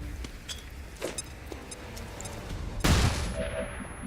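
Flashbang grenades going off in the tactical video game XCOM 2, a sharp burst with a bright crackling blast near the end following a few faint ticks and clicks over low game ambience.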